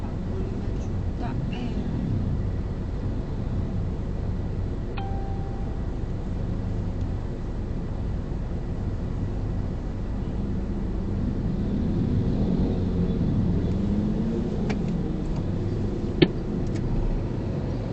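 Dense jammed road traffic in Bogor near Baranangsiang on the way to Botani Square: a constant low rumble of idling and creeping engines, with a faint voice now and then and a brief sharp click near the end.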